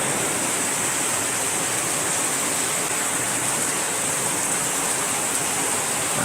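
An afternoon rain shower falls in a steady, dense hiss that stays even and close throughout, with no voices or other sounds breaking through.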